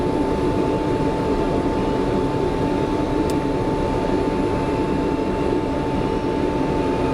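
A Boeing 727 engine number 1 spools up in a flight simulator cockpit, a loud, steady, dense roar with a constant whine and no talk.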